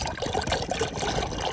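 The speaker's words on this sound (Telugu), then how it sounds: "దీంట్లో లైట్ గా వాటర్ అలానే కొంచెం ఉప్పు అయితే వేసి ఈ పెరుగు అయితే మనం కలిపేసుకుందాం ఇప్పుడు మజ్జిగలాగా" Water trickles steadily into runny curd mixed with salt to make buttermilk at a beach cookout, a continuous, moderately loud pouring with no speech.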